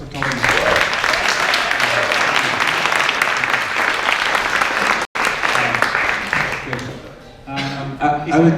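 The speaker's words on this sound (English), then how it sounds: "applause for Tommy" Audience at a VR Days Europe closing session applauds for a participant named Tommy, a loud, dense wash of clapping that breaks off briefly midway, then fades as voices begin to talk near the end.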